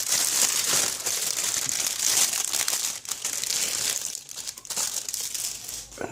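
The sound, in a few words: opening a plastic bag of model kit sprues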